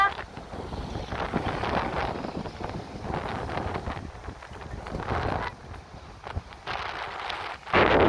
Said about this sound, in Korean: 바람 너무 좋다.